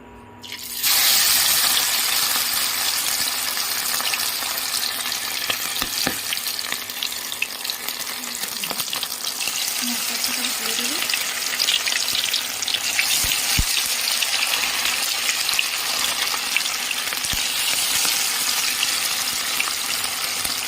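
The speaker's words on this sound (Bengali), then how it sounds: "এখানে ম্যারিনেট করে রাখা চিকেনটা আমি ভেজে নেব।" Marinated chicken for chili chicken fries in a kadai with a loud, continuous close sizzle, broken by occasional stirring clinks and scrapes, no voices over it.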